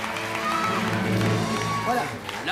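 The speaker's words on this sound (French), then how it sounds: "Alors, on les applaudit!" A live quiz-show audience applauds and cheers, a dense wash of clapping and crowd noise with voices and music-like tones mixed in, fairly loud throughout.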